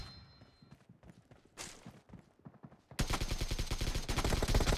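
Rapid bursts of gunfire in a battleground team deathmatch video game set in a town, starting softly among scattered footsteps and thuds, then erupting into loud, sustained automatic fire for the final couple of seconds.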